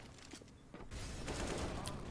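Gunfire from a CZ pistol in Counter-Strike on the Cache map in a pro CIS esports match: a few sharp shots over a steady bed of game noise and muffled background sound.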